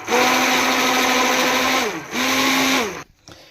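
A kitchen blender whirs steadily for about two seconds while mixing gram flour into lassi, pauses briefly, runs again for about a second, then stops with a faint rattle.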